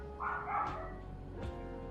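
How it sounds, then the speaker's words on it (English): A pet dog barks indoors in the background, a few muffled barks heard at a distance behind a quiet room tone. "Yeah, my dog's still barking in the background."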